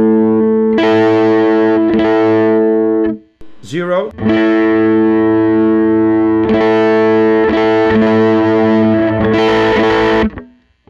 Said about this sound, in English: I have the neck pickup, and I'm going to add the bridge pickup to it.